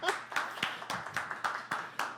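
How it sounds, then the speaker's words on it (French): A small audience of about 25 people claps at a neighbourhood book fair, a sparse, fairly quiet round of distinct hand claps in an uneven rhythm over roughly two seconds. "Enfin, ils arrêtent de parler, ils se mettent à applaudir."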